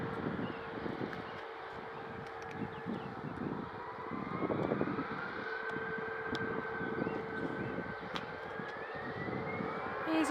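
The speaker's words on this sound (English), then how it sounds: "Nice little 737. Ryanair just arrived." A Ryanair Boeing 737 airliner arriving at Manchester Airport, a steady distant jet roar with a slowly rising whine, continuous and moderately loud throughout.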